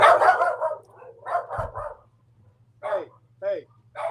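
A dog barks a few times in short bursts, close and fairly loud, while someone talks in between and over them.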